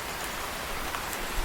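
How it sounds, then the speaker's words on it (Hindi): Rain falls in a steady, moderate hiss across a cartoon scene, with a few slightly brighter patters standing out over the even wash of drops. "ये बारिश कब बंद होगी?"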